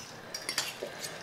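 Spoon or chopsticks scraping and clinking in a pan while ramen noodles are tossed with sauce, a few soft, close taps and scrapes over low background hiss.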